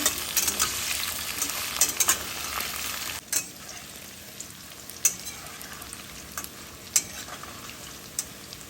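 Bitter melon dal is stirred in a frying pan, with a steady close sizzle and scattered scraping clicks from the spoon against the pan, a sharper knock near the middle and no talking.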